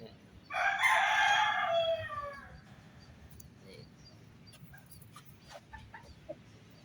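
A young four-month-old chicken gives one loud, close crow lasting about two seconds, then quiet farmyard background with a few faint clucks and scattered small noises.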